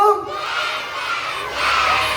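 Schoolchildren at an Isra Mi'raj celebration shout together in a loud, sustained crowd response, the chorus of young voices swelling, easing briefly, then rising again.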